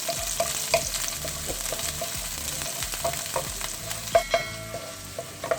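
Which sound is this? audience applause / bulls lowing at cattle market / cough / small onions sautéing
small onions sautéing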